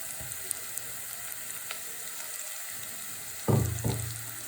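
Ground coconut paste hits a hot pan of frying onions for a jackfruit seed thoran, making a soft steady sizzle that bursts into two louder spitting crackles near the end, close, with no talking.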